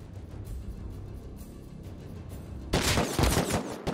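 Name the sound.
gunfire in a video game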